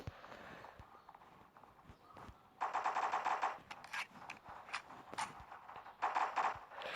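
Rapid bursts of automatic gunfire from the Block Strike video game, with dense crackling volleys starting partway through and returning in loud stretches, separated by brief single shots and quieter gaps.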